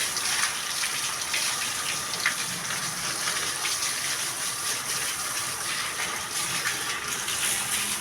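A steady, dense rush of water streams continuously as cattle are bathed outdoors, a broad hiss-like splash that stays loud and even throughout with no talking.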